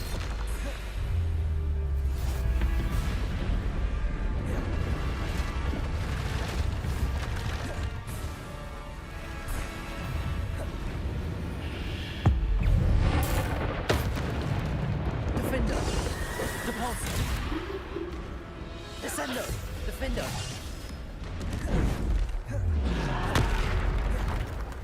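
Bombarda blasting spells in Hogwarts Legacy, repeated booms and crashes amid a busy game battle with horse whinnies, neighs and shouted spell incantations throughout.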